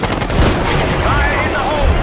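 Loud, rapid gunfire in Call of Duty: Black Ops 6, a continuous close barrage of shots filling the whole moment without letting up.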